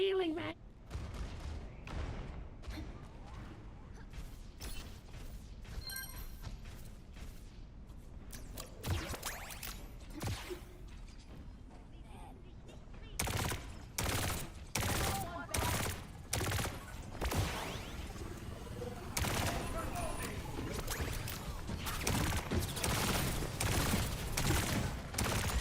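In Overwatch, gunfire pounds against D.Va's defense matrix, with rapid bursts of shots and impacts repeating throughout a busy competitive match. People talk over the action.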